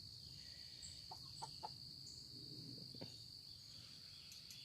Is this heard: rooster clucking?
yes